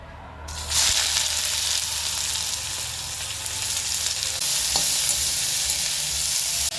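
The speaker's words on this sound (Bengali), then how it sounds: "এখন পেঁয়াজগুলো দিয়াম," Onions sizzle loudly in hot oil in a wok for a village-style eggplant mash, a steady broadband frying hiss that starts abruptly after a brief quiet moment and continues close and unbroken, with one faint clink near the end.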